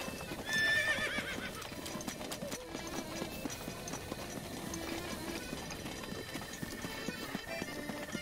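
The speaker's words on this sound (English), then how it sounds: "Come here, horse." Horse in the Zelda Breath of the Wild video game whinnies briefly near the start, then steady clip-clop hooves continue throughout over ambient game music.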